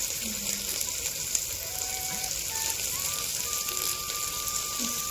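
Cluster bean (gavar) bhaji cooks in a pan with turmeric and chili, giving a steady, even sizzle and hiss throughout, with a faint voice in the background.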